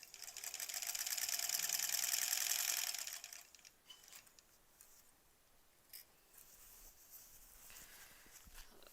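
Sewing machine stitching the border of a granny squares quilt, a loud steady whirring run for about three seconds that then stops, leaving faint handling noises.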